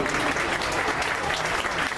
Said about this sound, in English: I would give these guys, all these young people, a big round of applause.